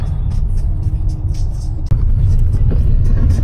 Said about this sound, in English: Trucks go by, they're like 18 wheelers.